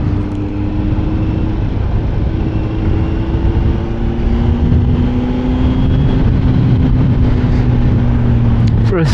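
A 2024 Kawasaki Z900 sport naked motorcycle cruises along curvy country back roads, its engine a steady loud drone mixed with heavy wind rush, the engine pitch rising and falling slightly as it rides.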